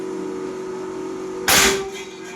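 A PCP Pasopati Big Game air rifle fires once: a single sharp, loud crack cuts through a steady low hum and tails off quickly into a short ringing decay.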